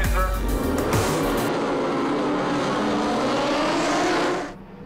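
Racing motorcycles, including a Suzuki, roar off the start line together, a dense, loud, sustained engine howl that holds steady before cutting away abruptly near the end.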